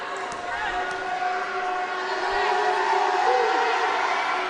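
A crowd jeers during overtime free throws at a women's college basketball game, ICC against Shelton State. A continuous, loud wash of voices with sustained shouted tones fills the arena, with no pause throughout.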